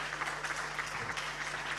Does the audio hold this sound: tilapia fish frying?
no